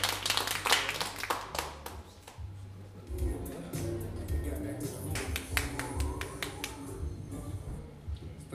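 Club audience at a live band concert claps and applauds, a burst of sharp, dense hand claps at the start that thins out as band instruments and low rumble take over, with crowd noise underneath.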